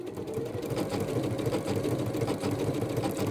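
Sewing machine running steadily as it stitches a blanket stitch around a fabric heart, a close, continuous whirring hum with a fast rhythmic mechanical chatter and no talk.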